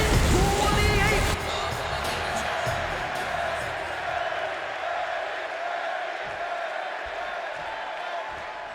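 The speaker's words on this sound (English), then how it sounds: "And just listen to this crowd here in Chicago." Large arena crowd in Chicago roaring and cheering at a wrestling match in the video game WWE 2K26, loud and steady throughout, swelling briefly at the start before settling into a sustained din.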